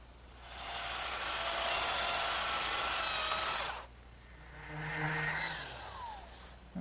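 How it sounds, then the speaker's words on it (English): An electric sander works a wooden trestle table piece, a loud steady whirring hiss for about three seconds, then cutting off before a softer second pass with a falling whine. "so I'll just dress that up with my sander"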